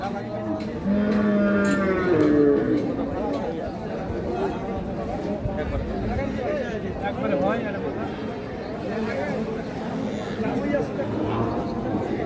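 A crossbred cow lows at a busy cattle market, a few drawn-out moos standing out early over steady crowd chatter and livestock noise, with people talking throughout.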